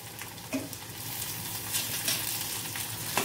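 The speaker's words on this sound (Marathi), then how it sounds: "टोमॅटो छान परतून घ्यायचे।" Onion and tomato sautéing in oil, a dense steady crackling sizzle with a few brief stirring scrapes, near and fairly loud, no speech.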